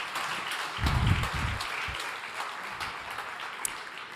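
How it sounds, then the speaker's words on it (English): Audience applause at a startup pitch competition, a moderate, steady patter of clapping with a few low thumps near the start, continuing fairly evenly for about four seconds. "Round of applause Thank for you very much"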